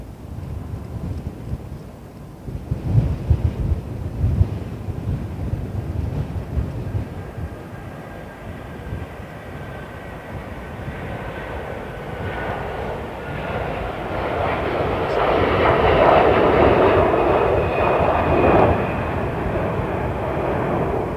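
A jet airliner takes off at London Heathrow Airport, its engine roar building from a low rumble into a loud, broad wash of noise with wind buffeting the microphone.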